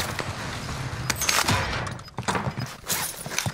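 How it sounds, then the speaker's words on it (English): Enemy gunfire in Call of Duty: Modern Warfare: a dense string of sharp, fairly loud shots in quick irregular bursts, with no talking. "Oh, he's shooting."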